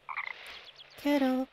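A frog croaks in Chibi-Robo HD, one sustained, buzzy call right after a brief spoken line, close and fairly loud.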